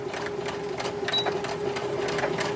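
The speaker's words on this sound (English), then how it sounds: "I'm going to position it here on my sewing machine. We're going to be sewing with a 1/4 inch seam." A home sewing machine stitches a quarter-inch seam while piecing a baby quilt, its needle chattering in a quick, even rhythm at close range with a faint steady hum underneath.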